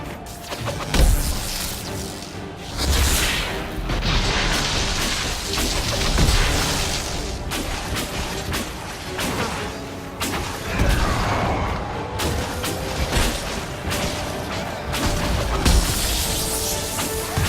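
Artillery fire and explosions in the video game Dragon Age: Inquisition, a series of loud booming blasts and crashing impacts with shattering debris, repeated over a long stretch and layered with rumbling battle noise.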